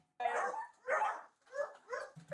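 A dog gives several barks and yelps in a short burst, moderately loud and slightly muffled, each bark separated by a brief pause, with no talk over them.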